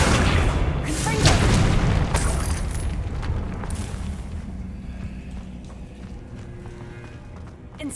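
Confringo fire spell blast in Hogwarts Legacy: a heavy booming explosion bursts early, then rumbles and crackles as it slowly decays over several seconds.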